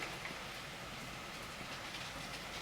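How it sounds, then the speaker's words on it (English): Faint, steady rain hiss coming through an open window, a continuous soft wash of drops with no distinct events and no talking. "You can hear the rain again."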